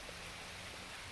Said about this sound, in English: I will be showing you the rain